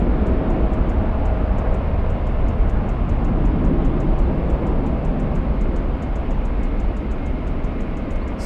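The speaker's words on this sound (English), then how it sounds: "Taking off quite early, not taking up as much runway as I expected" Alaska Airlines flight 803, a heavy jet bound for Honolulu, taking off at Los Angeles LAX, its engines a steady, loud broadband roar that holds throughout without voices.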